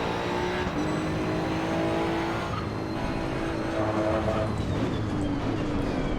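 A turbocharged Maserati GT2 race car in Assetto Corsa EVO drones steadily at moderate level, its engine pitch rising and falling through gear changes with a faint turbo whine.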